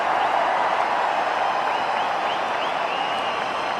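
A cricket crowd at a Chennai Test between India and Australia cheers and applauds a Dhoni boundary, a broad, steady wash of clapping and crowd noise carrying evenly throughout.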